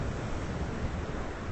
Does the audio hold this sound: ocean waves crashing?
yes